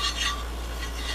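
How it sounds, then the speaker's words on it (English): A Samhain incense mixture is stirred in a bowl, giving a soft, continuous dry rustling and scraping that stays steady and fairly faint throughout. "I'm going to stir this up."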